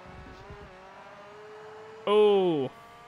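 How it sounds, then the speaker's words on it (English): Race car engine in Forza Motorsport during a European R-P1 Open prototype race: a steady, even drone, then one short, loud rev that rises and falls away near the end. "Oh, I love the sound of this engine."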